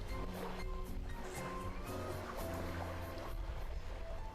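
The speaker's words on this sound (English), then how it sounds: "I could hear the lively sough of the waves." Ocean waves washing onto a beach in the video game Seabed, a steady continuous wash of surf that stays even throughout, with faint tonal game music layered underneath.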